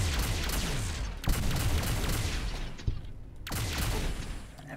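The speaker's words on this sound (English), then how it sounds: "I don't appreciate you shooting at me." Gunfire in Fallout: New Vegas, a modded game, with repeated bursts of shots against a dense, continuous combat din, including sharp cracks near 1.3 s, 2.9 s and 3.8 s.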